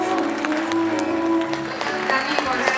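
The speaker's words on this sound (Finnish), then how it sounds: "Ja annetaan vielä aplodit Hannalle." Steady audience applause at the closing concert of a tolerance week, many hands clapping continuously with a few louder claps, cheering voices and crowd noise mixed in.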